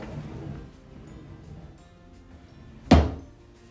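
Kitchen cabinet door without soft-close hardware in a modular home shut once with a sharp, solid thunk near the end, after a quiet stretch of faint room noise.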